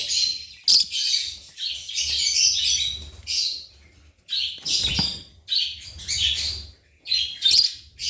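Pet lovebirds, red-eyed birds kept in a shared sleeping box, chirp and squawk in rapid overlapping bursts, close and fairly loud, with short pauses between flurries.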